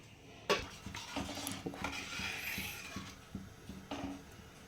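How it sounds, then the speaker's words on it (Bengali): A metal lid clanks onto a pot of Bengali chara pona fish curry, with a sharp strike followed by scattered clinks and rattles of cookware close by, no talking. "এরপর আমি একটু ঢাকনাটা দিয়ে দিচ্ছি।"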